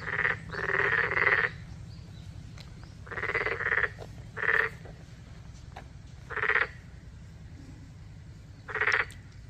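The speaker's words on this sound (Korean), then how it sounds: "두꺼비인지 맹꽁인지 막 엄청 짖는다." Loud, raspy croaking of toads or narrow-mouthed frogs calling for mates at an arboretum in Daegu, in repeated bursts of about a second each, separated by short pauses, over a low steady rumble of an engine.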